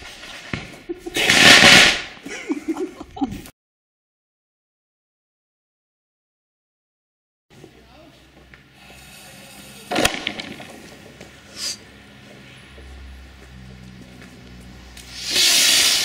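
A firework rocket launched from a slingshot gives a loud hissing whoosh, then a stretch of silence, then crackling and rumbling hiss with sharp pops, ending in another strong rushing burst.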